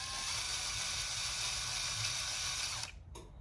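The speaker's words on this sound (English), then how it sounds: "I'll put a little mark with my drill bit." A drill bit scrapes and ratchets against a holster to make a small mark, a close, fairly quiet continuous grinding that cuts off near the end, followed by a short tap.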